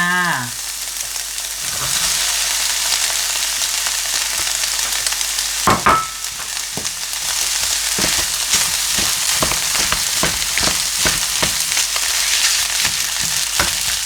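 Rice tossed in a hot pan with carrot and Chinese sausage, a loud continuous sizzle punctuated by repeated sharp spatula scrapes and clanks in an uneven rhythm, close up and without speech.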